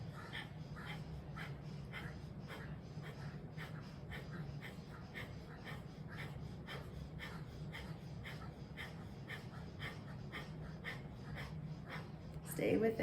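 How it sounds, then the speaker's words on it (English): Breath of fire breathing exercise: rapid, rhythmic forceful exhales through the nose, about two per second, steady and fairly quiet, close, continuing for several seconds before a sharper intake at the end. "On your next breath, begin the breath of fire."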